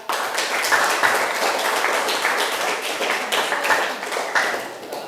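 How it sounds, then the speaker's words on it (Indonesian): A classroom audience claps for a student group's presentation: steady, dense applause of many hands, loud and continuous for several seconds without talk. "Berikan aplaus teman-teman kita."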